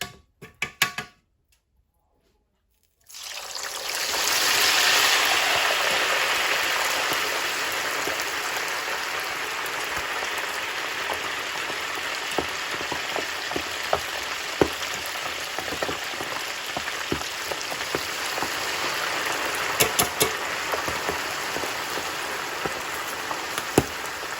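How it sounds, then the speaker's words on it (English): Steady, loud sizzling of pork frying in a pan, a dense crackle that starts abruptly after a brief silence and continues with scattered pops. "So we are going to start frying our pork now."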